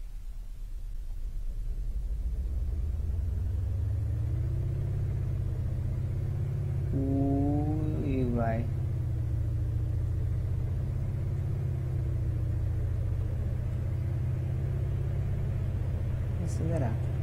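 Game car engine in BeamNG.drive holding a steady low rumble for the whole stretch, with a brief rising rev swell in the middle and a sharp tone near the end; close and loud, no talk over it.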